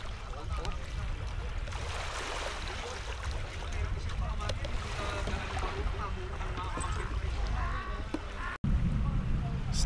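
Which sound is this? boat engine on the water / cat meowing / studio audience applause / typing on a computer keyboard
boat engine on the water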